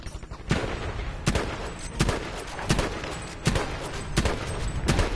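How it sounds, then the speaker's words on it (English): Rapid gunfire from the Battlefield Firestorm video game: repeated loud bursts of shots at a steady, close pace over a dense background of battle noise. "It's a lot of shots."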